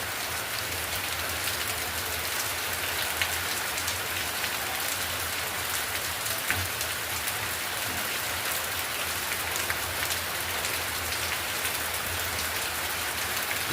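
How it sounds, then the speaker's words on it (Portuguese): Steady rainfall on a windy day in the Piancó valley of the Paraíba sertão makes a constant, close hiss of drops on surfaces, holding at an even level throughout, with a few brief louder taps and no speech. "Que bela chuva"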